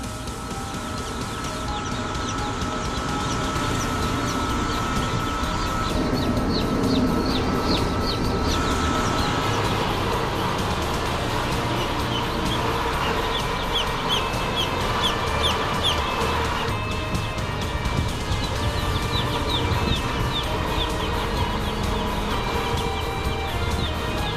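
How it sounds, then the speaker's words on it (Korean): Many newly hatching chicks peep continuously in a dense, high chorus in a hatchery room over a steady mechanical hum, with no gaps throughout. "이곳에서 성장이 빠른 병아리는 하나둘 부화를 시작합니다."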